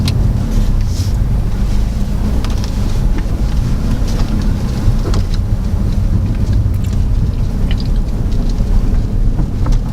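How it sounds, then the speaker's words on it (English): A 2014 Suzuki Swift Sport with stiff suspension drives over a gravel road, giving a loud constant rumble of tyres crunching on stones and road noise heard from inside the cabin. "Considering the stiff suspension, it's actually going over this gravel road quite nicely."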